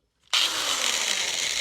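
A sanding wheel paint stripper spins up on an electric drill with an abrupt start, then holds a steady, loud whirring grind alone without talk.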